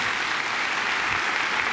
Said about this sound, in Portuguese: E palmas para Jesus, pessoal.